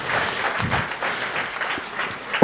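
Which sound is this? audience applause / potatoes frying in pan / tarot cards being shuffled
audience applause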